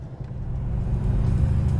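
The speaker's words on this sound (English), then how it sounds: "We're just warming the car through" A dark green classic Ford Mustang engine warms up at idle, a low steady rumble that swells slightly, heard close with no talk.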